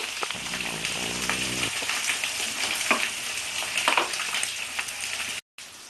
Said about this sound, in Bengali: মাছটা আমি ভালো করে ভেজে নেব দুই দিক বেশ লাল করে ভেজে নেব